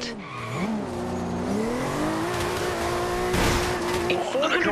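A racing car in Forza Horizon 2's Fast and Furious expansion, an armored jeep, with a loud engine rising in pitch and tires squealing and skidding through turns, continuous and close.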